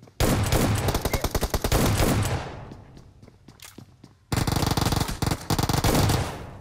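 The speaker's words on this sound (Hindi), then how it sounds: "शॉटगन से पिछवाड़े में गोलियां मारी एनिमीज के" Shotgun fire hits enemies in the PUBG Mobile video game: loud, rapid bursts of shots, then scattered single reports after a short lull, and another dense volley near the end. There is no talk.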